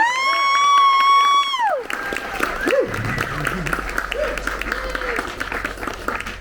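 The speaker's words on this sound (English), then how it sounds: "Let's get a big round of applause." Big round of applause and cheering from a bookstore crowd at Skylight Books celebrating a book release, loud and sustained after a sustained tone fades out, with whoops and shouts rising over the clapping.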